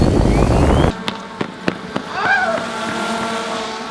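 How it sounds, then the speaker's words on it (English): Drone-launched fireworks pop in a few sharp bangs after a loud rushing roar cuts off, followed by a whistling, crackling trail fading into the distance. "Fireworks on a drone."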